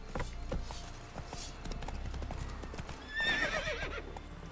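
Geralt's horse Roach in The Witcher 3 trotting along with rhythmic hoof clip-clops, then a loud whinny near the end, close and unaccompanied by talk.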